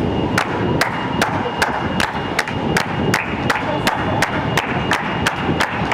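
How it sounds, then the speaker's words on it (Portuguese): A small group claps in a steady, evenly spaced rhythm, sharp distinct claps about three per second over a busy, noisy background with some voices, recorded on Avenida da Liberdade. "Palmas."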